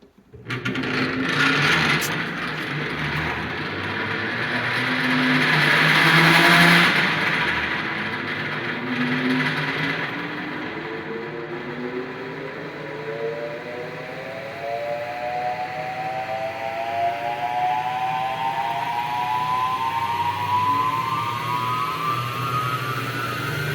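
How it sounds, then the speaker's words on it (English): A 1917 TUEC central vacuum cleaner motor in a basement whirs up and settles into a steady droning hum, its pitch rising gradually as it spins up to speed. "We're going to start it up, and then we'll plug a hose in and we'll vacuum a little bit."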